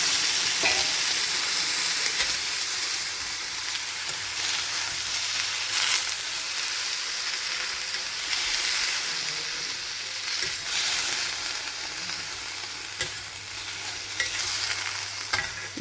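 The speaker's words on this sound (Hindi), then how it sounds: "बारीक कटा हुआ टमाटर आप इसमें ऐड कर लेना। फिर इसे हल्के हाथ से आप ऐसे चला लेना।" Chopped tomato and potato stirred in a frying pan over a medium flame, giving a steady, loud sizzle with soft scraping from the stirring throughout.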